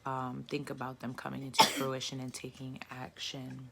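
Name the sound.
sneeze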